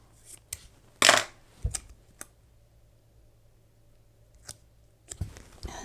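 Scissors cut through a paper planner print in a few sharp snips, loudest near the start, followed by softer paper rustles and taps in a quiet room.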